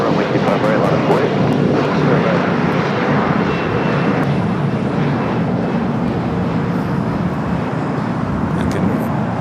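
American Airlines flight 3134 takes off from runway 25 right at Los Angeles International Airport, a loud, steady, broad jet roar that holds at full strength throughout with no pauses.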